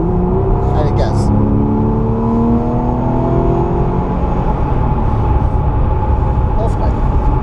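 Car accelerating on the Le Mans circuit, its engine note rising steadily as revs climb, loud and close with a continuous drone throughout.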